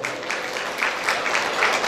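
A village audience gives brief, steady applause for performers called to the stage, with dense clapping held at an even level throughout and no talking.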